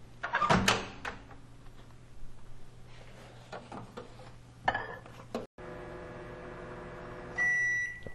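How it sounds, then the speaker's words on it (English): Clattering and a door thud give way to the steady hum of a microwave cooking an egg, ending with a high electronic beep. "So now this is going to go into the microwave 30 seconds at a time until it's fully cooked."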